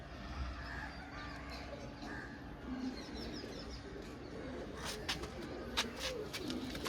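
Pigeons coo at a busy pigeon market in Srirampur, soft repeated calls rising over a steady murmur of crowd noise, with a few sharper sounds near the end.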